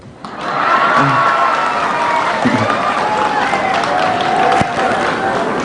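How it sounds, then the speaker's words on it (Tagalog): A large crowd cheers and claps at a government oath-taking ceremony attended by the president, a sustained roar of applause and shouting that fills the whole stretch, with voices mixed into the noise. "Sige, palakpak mo."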